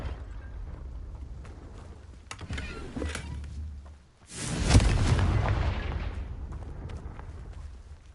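A Confringo fire spell explodes in Hogwarts Legacy, a sudden deep booming blast that rolls into a long fading rumble after a few quieter clicks and thuds, heard alone without voices.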